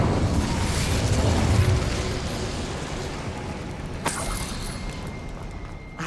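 The Incendio fire spell is cast in Hogwarts Legacy: a steady, roaring rush of flame and rumble runs throughout, with one sharp burst partway through.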